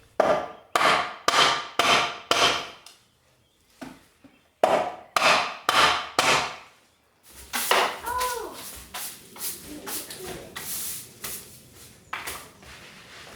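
Metal clanks and knocks strike an aluminum door frame in quick bursts of four or five blows, then pause and repeat, followed by softer scraping and creaking as the bent frame is worked back into place.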